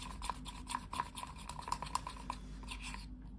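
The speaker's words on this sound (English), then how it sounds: "I'm gonna add 2 spoons of distilled water into this mixture. 1, 2, or 3, and mix it up" A spoon stirs an acrylic pouring paint mixture thinned with distilled water, producing rapid scraping and clinking strokes against the cup over a low hum before stopping abruptly.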